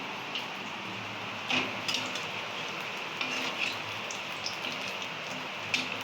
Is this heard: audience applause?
no